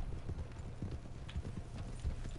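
Horse hooves clip-clop steadily in a video game, a continuous low thudding rhythm of several horses riding together on a trail, loud and close with faint background ambience.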